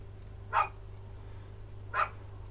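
Two separate barks from a neighbour's dog spaced about a second and a half apart, moderately close, with a low steady hum underneath.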